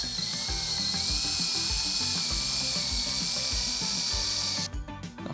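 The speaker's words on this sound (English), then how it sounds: "drill the marked holes into the ceiling" A power drill with a concrete bit whines steadily, high and loud, grinding into a ceiling for several seconds before cutting off near the end.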